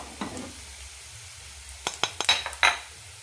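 Spice powders (turmeric, chilli and sambar powder) stirred into onions in a pan while cooking a sweet potato curry: a faint soft sizzle, then a few close clinks and scrapes of a spoon against the pan.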